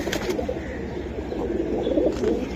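Silver Giribaz and Gorra pigeons from a sale coop give soft, rolling coos, a few birds close by murmuring continuously with faint background noise.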